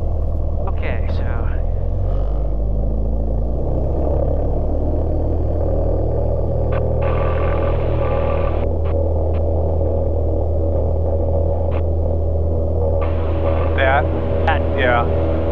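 A light aircraft rolls down a rough runway on its takeoff run, its wheels and airframe giving a steady loud rumble and vibration under the engine drone, with occasional short voice sounds over the noise.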